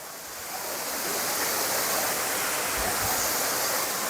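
A waterfall on the Cascades walking track in NSW roars steadily up close, a dense unbroken rush of falling water with no voices.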